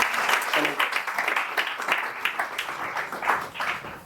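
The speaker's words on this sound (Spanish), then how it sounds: "Fuerte aplauso para nuestro." Steady applause from an audience, a dense patter of many hands clapping, with a few voices mixed in.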